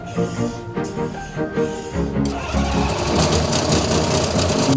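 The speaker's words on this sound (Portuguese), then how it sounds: "O motor arranca, pelo menos para já." A seaplane engine at sea starts up: a sputtering, tonal cranking wobbles for about two seconds, then the engine catches into a loud, steady, buzzing roar that carries on to the end.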